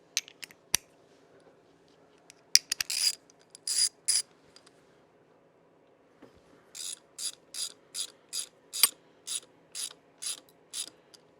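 A ratchet runs bolts into a Harley-Davidson Sportster front pulley, a short burst of clicking strokes, then a steady series of about ten evenly spaced ratcheting pulls, close and crisp with no talk.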